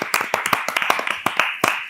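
An audience claps for a short quiz on a French comedy radio show, with a burst of fairly close hand claps in an uneven, scattered rhythm that rises and thins over two seconds.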